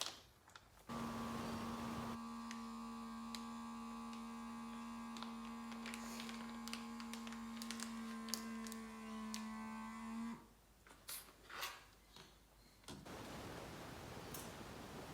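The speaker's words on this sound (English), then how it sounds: "now we're going to use our vacuum sealer" A kitchen vacuum sealer held over the orange air valve of a flat food bag for sous vide runs as a loud, steady motor hum with a high whine for about ten seconds, then stops, followed by a few clicks and handling sounds.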